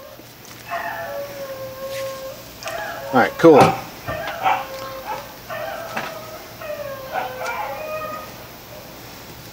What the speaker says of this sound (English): Ooh, the majestic sound. The song dog. Have you ever heard a song dog before?